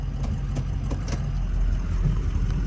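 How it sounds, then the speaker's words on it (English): A 2005 Ford Excursion's 6.0L Powerstroke diesel engine rumbles loudly and steadily up close, with a faint high turbo whine over the low drone and a few soft clicks. "The engine is loud. I don't know if you can hear that. The turbo whining, whistling just right there."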